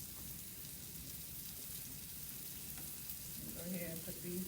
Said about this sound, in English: I'm gonna saute these. Put these few in there.